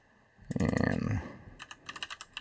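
Typing on a computer keyboard comes as a quick run of close key clicks, then a pause and a second burst of lighter, evenly spaced keystrokes.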